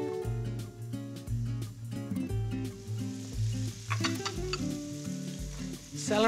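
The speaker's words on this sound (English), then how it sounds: "while the onions are wilting" Chopped onions wilt and sizzle in a pan, a continuous crackling fry heard under steady music.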